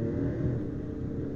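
A car engine rumbles steadily while driving in Final Fantasy XV, a low, continuous drone with road noise and no voices.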